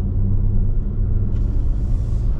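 A large unladen truck works through a wide curve on the RJ-163 mountain road, a steady close rumble of heavy engine and road noise with a faint hiss rising partway through, no voices.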